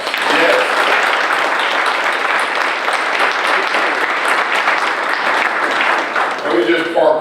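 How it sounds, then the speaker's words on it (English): An audience at a county government event applauds loudly and steadily, a thick wash of clapping that continues for several seconds before a voice speaks at the very end. "Give her a wonderful round of applause."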